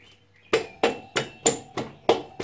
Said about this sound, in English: feel free to use a soft hammer